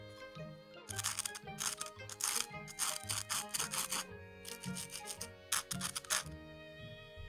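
Crisp, crackly crunches of a toasted sandwich bite after bite in uneven bursts, close to the ear, with brief quieter pauses between chews.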